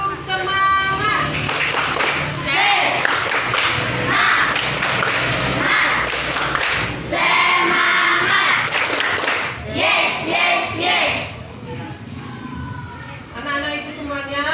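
A group of schoolchildren in an Indonesian classroom performs the tepuk semangat chant at the start of a lesson, with sharp rhythmic hand claps and thumps woven through loud, lively young voices chanting together for the whole stretch.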